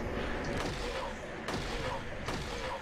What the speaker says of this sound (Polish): Dobra, mogę wsadzić trzy strzały.